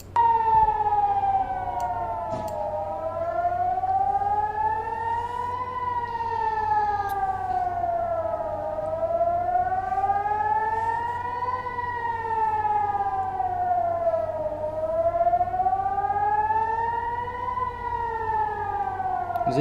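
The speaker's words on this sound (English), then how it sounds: "Got loads of sirens going off" Several civil defense sirens wail, rising and falling in slow, overlapping cycles, loud and continuous, with a faint thud or two of impacts underneath.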